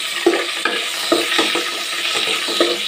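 Garlic frying in hot cooking oil, a steady sizzle broken by several soft scraping stirs spaced about half a second apart, close and fairly loud with nobody speaking.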